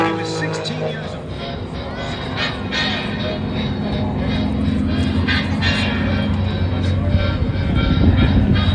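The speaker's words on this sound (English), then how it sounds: "It was this airplane that was known as the Texan because it was built by North American Aviation in Texas." A North American Aviation T-6 Texan flies at a military air show, giving a loud, steady engine roar that swells slightly toward the end, with crowd and wind noise mixed in.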